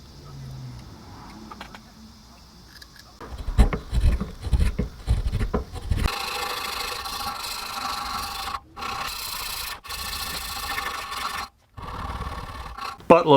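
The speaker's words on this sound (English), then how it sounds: "Buttload of sanding later" Rough rasping strokes of sandpaper on a wooden fishing lure, coming in bursts and longer steady stretches, close and fairly loud, with brief pauses between passes.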